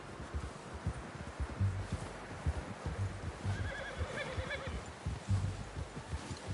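A horse in the video game Red Dead Redemption 2 whinnies and snorts while its hooves clip-clop in an uneven rhythm over ground, fairly close, with faint rustling in the background.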